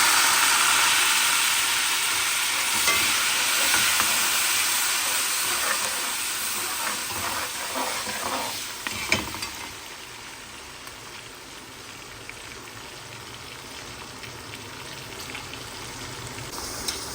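Peas frying in a pan while being stirred for matar pulao: a steady, close hiss of sizzling that slowly eases in loudness, with a few faint stirring scrapes.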